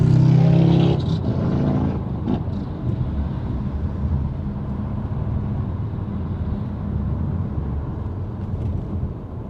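Motorcycles ride past on an Arizona road in cool weather, a loud close engine roar at the very start that settles into a steady, rumbling traffic drone with wind buffeting the microphone, no voices.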